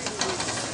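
Food frying in a pan in a busy restaurant kitchen, giving a steady broadband sizzle and hiss throughout, fairly quiet and unbroken.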